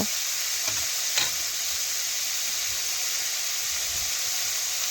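Potatoes fry in a pan with salt and turmeric, giving a steady close sizzle and hiss, with a couple of brief utensil scrapes near the start and no voices.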